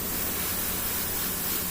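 An airbrush sprays paint onto a tabletop miniature, an Adeptus Mechanicus Kataphron Breacher in a Mars scheme, giving a close, steady broadband hiss throughout with no separate pulses and no talk.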